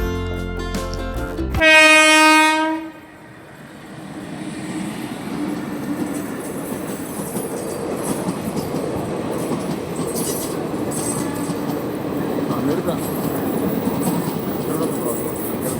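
A train horn blares loudly, then the Amrita Express rolls past close by at a railway crossing with a continuous roar and rattle of wheels that keeps going.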